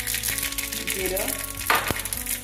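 Mustard seeds and cumin hit hot oil in a pan, a soft steady sizzle with faint crackles and a couple of sharper pops, quiet and close.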